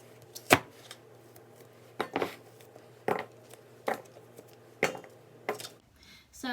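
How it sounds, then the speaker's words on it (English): Apples being cored for applesauce with sharp, knocking cuts against a board, six separate strikes spaced about a second apart, close and clear over a quiet kitchen. "So I'm going to show you a little bit of me coring them"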